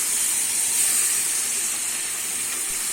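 Crab pieces dropped into a hot pan of fried spice paste for Bengali crab curry, giving a loud, steady hiss of sizzling that holds evenly throughout with no talking.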